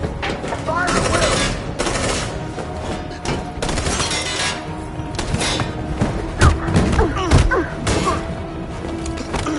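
Heavy gunfire rattles through a chaotic battle scene in Detroit: Become Human, with rapid machine-gun bursts and sharp individual shots layered under shouting voices, loud and continuous with a few stronger thuds near the end.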